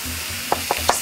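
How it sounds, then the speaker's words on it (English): Mushrooms sauteing in a pan with garlic, a steady soft sizzle running throughout the short stretch, with three brief sharper scraping or stirring accents near the end. "the mushrooms are sauteing"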